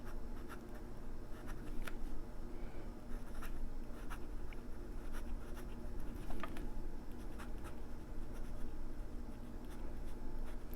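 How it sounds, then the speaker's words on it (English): A Sheaffer Imperial IV fountain pen writing nib down, its fine point giving a steady, soft scratching across paper with faint, periodic strokes and no talk. "it also allowed you to write nib down with a finer point"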